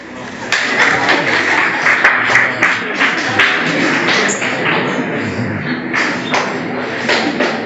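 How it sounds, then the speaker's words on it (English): High school students clapping in a room, a dense burst of applause with thumping claps that carries on steadily under a voice throughout. "Boys, can you clap for them?"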